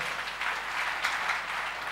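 A congregation claps at a church service: a steady, dense patter of many hands that stays even and moderately loud throughout, with no voices over it.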